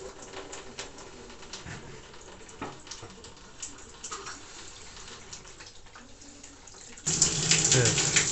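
Water starts running from a drain hose as a water heater tank is emptied. Faint clicks and handling noises come first, then the gush begins abruptly and continues loud and close.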